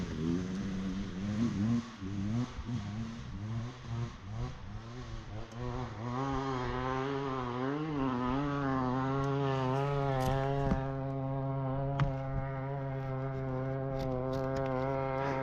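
Dirt bike fitted with a paddle tire climbing a volcanic cinder hill, its engine revving hard and steadily rising in pitch, loud and continuous throughout the climb with no talk.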